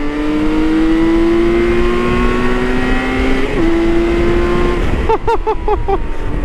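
A BMW K 1600 GTL motorcycle engine drones steadily and rises in pitch as it accelerates, then shifts and revs in short rapid bursts near the end.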